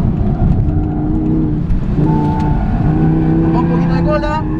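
An Audi R8 V10 on a race circuit brakes hard and downshifts for a chicane, its engine note dropping and blipping with in-cabin roar while someone talks over it.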